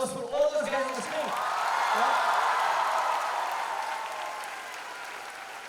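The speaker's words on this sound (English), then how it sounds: "A huge round of applause for all those guys on the screen." Applause swells from an audience at a school event, building after a brief stretch of talk into a broad, sustained wash of clapping that slowly fades away.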